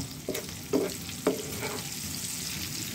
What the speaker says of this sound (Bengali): গরম তেলে দিয়ে দিলাম। এখন আমি মাছটাকে ভাজতে থাকব।